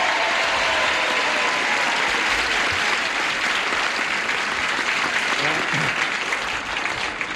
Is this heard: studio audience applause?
yes